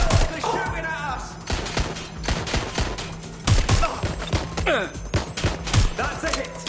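Rapid bursts of gunfire in the video game Watch Dogs Legion, loud close shots and volleys firing in irregular clusters throughout, with impacts and thuds mixed in and a steady low hum underneath.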